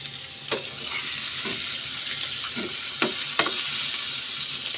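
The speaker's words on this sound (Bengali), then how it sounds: "ডিমটা ভাজা হবে। ভাজা হয়ে গেলে তুলে নেবো।" Egg and potato pieces frying in hot oil, a steady close sizzle with a few sharp pops and stirring clatters over about five seconds, no talk.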